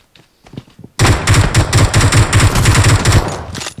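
Rapid automatic gunfire in a video game bursts in as a loud, sustained stream of sharp, evenly spaced shots. A few scattered quieter shots come before it.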